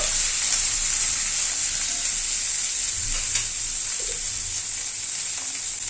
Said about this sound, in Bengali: তারপরে সব সবজিগুলো দিয়ে দিচ্ছি সবজিগুলোকে দিয়ে একটু নাড়াচাড়া করবো